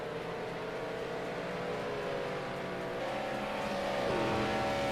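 A race car engine howls near its redline around 7,000 RPM at Spa during a club endurance race, a steady sustained drone with a pitch shift near the end as it passes or changes gear.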